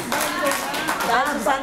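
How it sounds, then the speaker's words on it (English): Audience members at a Sante Barley event in Nicosia, Cyprus clap in a brief, close burst with voices talking over it. "let's give a big applause."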